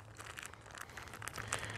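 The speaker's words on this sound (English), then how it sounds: "I wrap that plastic bag up just to keep them a little more waterproof." A plastic bag holding fire plugs crinkles and rustles as it is wrapped up, a faint, close, irregular crackling heard on its own.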